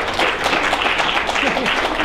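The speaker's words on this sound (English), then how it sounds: "Only at a tech conference does that get an applause." A conference audience at a tech event applauds in a short, dense burst of clapping, with voices murmuring through the crowd noise.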